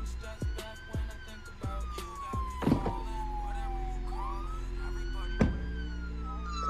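A police car siren wails in a slow rising and falling sweep, loud and close, punctuated by sharp thumps and clanks, with no talking over it.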